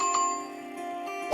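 Notification bell sound effect: a bright, ringing ding with a long sustained tone, then a second sharper strike near the end, clear and alone without talk.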